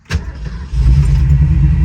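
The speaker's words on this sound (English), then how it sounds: "Car fires right up." A 1967 Shelby GT350 with a 4-speed catches after a short sharp crank burst, then settles and swells into a loud, steady, close-up idle rumble.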